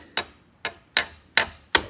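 A hammer taps metal steering parts on a Yerf-Dog Spiderbox go-kart five times, sharp ringing clinks spaced about every third of a second, close and clear against near silence.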